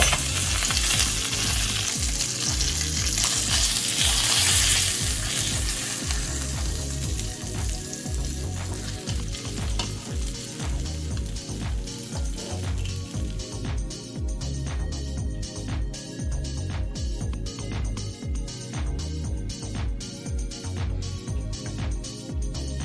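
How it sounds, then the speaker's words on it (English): Koi fish sizzles and crackles steadily in a hot pan of oil for curry, a dense continuous frying hiss with small pops throughout and no talking. "this fish is fully fried now, ready to eat"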